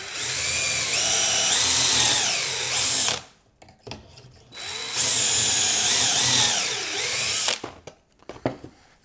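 A drill with a pocket-screw bit bores angled pocket holes into clamped wood in two loud, close bursts of whining, several seconds each, with a short pause and small clatters between.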